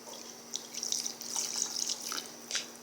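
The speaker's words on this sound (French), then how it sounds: "On ajoute le lait." Milk poured into chocolate chip muffin batter: a faint, close trickle of liquid with a few soft drips and splashes over a quiet background hum.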